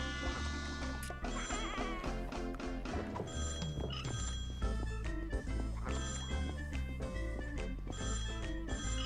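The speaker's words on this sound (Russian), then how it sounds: "Еще один телефон, звонящий сзади." A phone rings in the mobile version of the Hello Neighbor 2 game, its repeated ring woven into busy, continuous game music.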